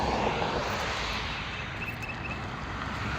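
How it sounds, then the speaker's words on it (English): A distant jet airliner passes over the desert near Las Vegas while departing traffic is spotted, giving a steady, broad roar with wind noise that holds evenly throughout without speech. "Another jet off in the distance."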